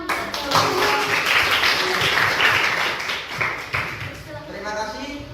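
A group claps after a classroom presentation, a steady patter of applause lasting several seconds with people talking over it.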